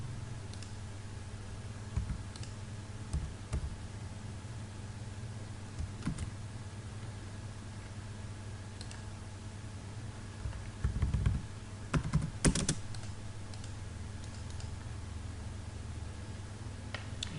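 A few scattered keystrokes on a computer keyboard enter a command in AutoCAD 2017, ending in a short cluster of clicks like a double Enter press. The clicks are sparse and faint over a low steady hum.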